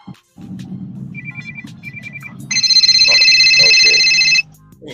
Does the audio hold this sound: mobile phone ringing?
yes